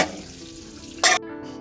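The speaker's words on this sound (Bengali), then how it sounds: "কুমড়ো আলু সবকিছু দিয়ে একসাথে ভাজছে" Pumpkin and potatoes with green chilies frying in a pan give a steady sizzle with a sharp louder burst partway through, then the hiss thins out near the end.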